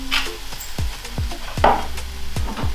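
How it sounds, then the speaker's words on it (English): Egg fried rice stirred in a pan: a spatula taps and scrapes in a regular rhythm, about five or six strokes over a low sizzle, close up with no talk. "Give it a little bit more of a stir."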